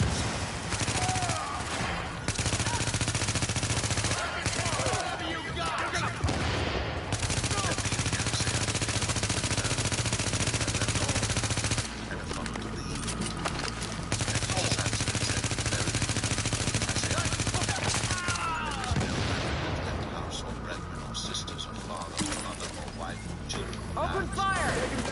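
Sentry turret gunfire in The Division game, sustained bursts of rapid automatic fire that repeat over and over at loud, close range. A synthetic announcer voice speaks over the shooting.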